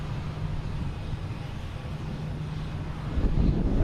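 Delta Airbus A330-900 airliner, flight 186 bound for Milan, rumbling near Boston Logan Airport as a steady broad low roar that swells louder toward the end, with no talk.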